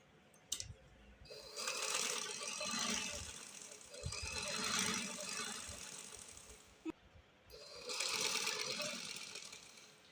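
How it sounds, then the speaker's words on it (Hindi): A domestic sewing machine runs stitches along a dress with mirror work, humming steadily and close in long runs broken by brief pauses, with a sharp click or two between passes. "तो चलते हैं मशीन की तरफ। ये मैं सेंटर से सिलाई लगाना शुरू शुरू करूँगी।"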